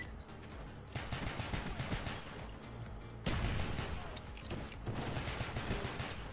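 Rapid bursts of gunfire in the video game Black Ops 1, including pistol shots, crack in quick succession over several seconds, sharp, loud and dense, with a brief pause before another volley.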